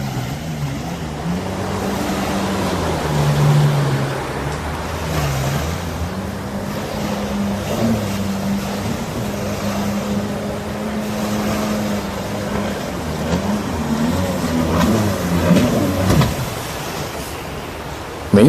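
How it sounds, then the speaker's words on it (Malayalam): A jet ski races across open sea water near Kuwait Towers, its engine a steady, fairly loud drone with a wavering pitch that runs unbroken for the whole stretch, with wind and water noise around it. "ഇതാണ് വാട്ടർ ബൈക്ക് അല്ലെങ്കിൽ വാട്ടർ സ്കൂട്ടർ എന്നൊക്കെ നമ്മൾ ഇതിനെ വിളിക്കാം"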